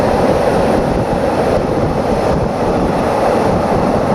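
A Phitsanulok–Bangkok passenger train rumbles along steadily in the rain, heard from inside a carriage, a loud continuous roar of wheels and carriage noise with a dense hiss layered over it.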